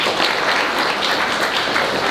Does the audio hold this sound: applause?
yes